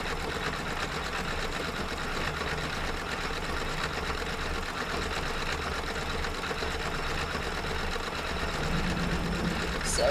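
An embroidery machine stitches a dense design, a steady mechanical whirr with a low rhythmic knock running evenly and close throughout, with a faint brief sound near the end.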